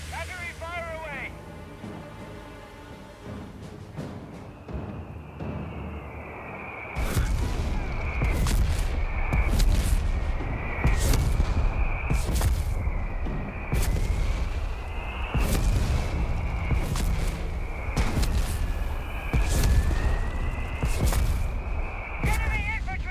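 An artillery battery barrage in Company of Heroes 3, a rapid series of heavy booming shell impacts and blasts landing one after another over a low rumble, with a whistling tone running alongside and voices heard early on.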